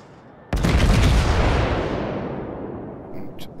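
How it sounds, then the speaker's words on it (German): The USN New Mexico battleship fires a single loud, booming naval artillery salvo in World of Warships. A long rumbling tail decays over several seconds, with a faint mechanical sound near the end. "Ich werde jetzt nochmal auf sie schießen."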